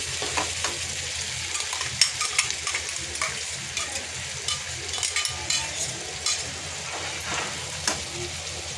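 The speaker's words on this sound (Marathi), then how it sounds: "आपलं जे वाटण आहे ना हे तेलामध्ये मस्त परतून घ्यायचं आहे" Ground masala paste fries in hot oil for a Koli-style stuffed mackerel dish, a continuous sizzle with repeated scraping stirs of a spatula against the pan, close and steady.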